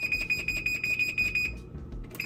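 A kitchen timer alarm beeps loudly in a fast repeating electronic pattern, pauses briefly, then starts beeping again.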